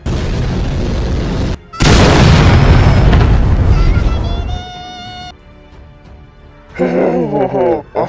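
Toilet bombs explode in a Skibidi Toilet video game: a loud, close blast and a rumbling roar fade out, followed by tonal game effects and a short burst of noisy sound at the end.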